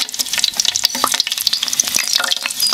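Onions frying in hot oil for jackfruit biryani, a steady close crackling sizzle with dense bright popping and spitting throughout, no talk.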